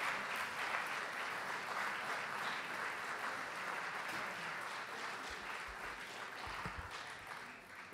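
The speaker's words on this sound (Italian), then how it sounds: "mentre noi applaudiamo i nostri concertisti che entrano" An audience applauds steadily for concert performers walking on stage at the opening of a Vivaldi festival. The clapping is dense and continuous throughout, with no voices over it.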